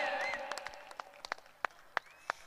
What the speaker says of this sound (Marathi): टाळ्या वाजवा कव्हर साठी, दिगाईसाठी जोरदार टाळ्या